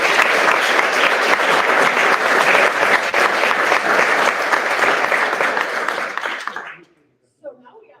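An audience at a bamboo expo panel breaks into loud, sustained applause for a speaker, a dense wash of clapping that fades out near the end into near silence.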